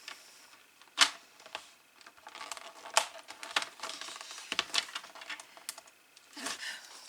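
Paper is cut in half widthwise for a craft page, heard as a close series of crisp snips and rustles with irregular spacing and brief pauses.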